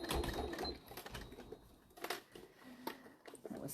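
A domestic sewing machine stitches fabric for a small bag in uneven bursts of rapid whirring, separated by pauses and light handling clicks, close and fairly quiet.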